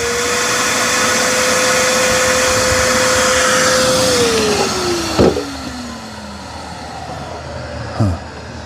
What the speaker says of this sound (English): there's the auto empty system.